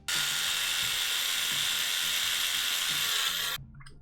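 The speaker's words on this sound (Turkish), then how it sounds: "Onu da buradan delelim tam orta kısmına bir delik atmak istiyorum" A small power drill bores a hole in a plastic multimeter case for an LED. It gives a loud, steady high whine for about three and a half seconds, then cuts off.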